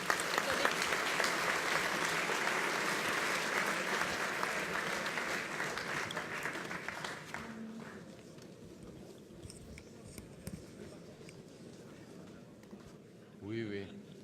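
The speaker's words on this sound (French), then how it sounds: "Merci à Christophe Berda, je vous prie d'applaudir." Audience applause following a conference presentation, a dense, steady clapping from a crowd that fades out after about seven seconds, leaving quieter room noise and a brief voice near the end.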